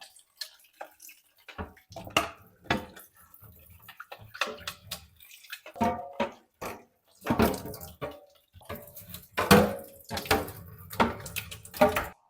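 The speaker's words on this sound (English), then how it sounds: "So again, just rinse it off." Water runs and splashes as a robot vacuum-mop's mop tray is rinsed under a tap, with uneven bursts of spraying and dripping close by and pauses in between.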